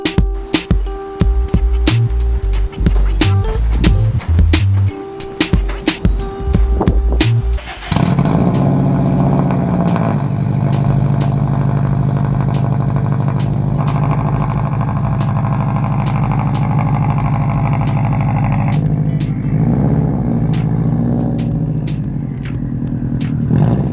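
Rocket Bunny FRS car engine running: a sharp burst of revving and crackling before settling into a loud, steady idle with a deep rumble and occasional ticks.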